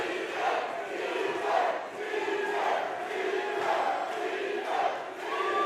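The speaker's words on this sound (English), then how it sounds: "Big crowd." Large crowd cheering and shouting at an NFC 174 mixed martial arts fight event, a dense, continuous roar with rising swells of yells throughout, fairly close and loud.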